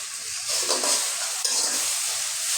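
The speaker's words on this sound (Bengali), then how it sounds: "ভালো করে মশলাটা কষাই নিই।" Ground spices such as turmeric and cumin fry in a pan for a vegetable dish, giving a continuous close sizzle with scraping stirring strokes and no speech.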